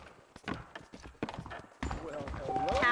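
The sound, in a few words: horse clip-clopping in the video game Red Dead Redemption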